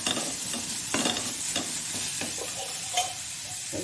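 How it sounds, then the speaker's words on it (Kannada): Onion and carrot frying in oil over a low flame while being stirred, with a soft continuous sizzle and a series of scraping, clicking spatula strokes against the pan at an uneven rhythm. "ಈ ಕ್ಯಾರೆಟ್ನ ಹಸಿ ವಾಸನೆ ಹೋಗುವವರೆಗೆ ನಾವು ಹುರಿದುಕೊಳ್ತಿದ್ದೇವೆ"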